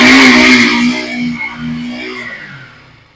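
A KTM RC 200 motorcycle engine revs sharply up close. Then the revs fall away, and the tone trails off over about three seconds.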